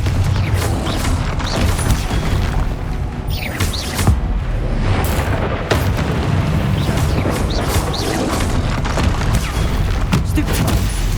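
Confringo spell blasts in Hogwarts Legacy, played on PS5 in a mine: dense, continuous explosive booms, crashes and crackling impacts, loud and steady throughout with no pauses.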